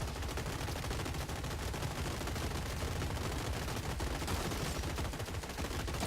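Shotgun robots fire during a Gladiabots team tournament match, giving dense, rapid crackling bursts of video-game gunfire that run continuously and fairly faint with no talk.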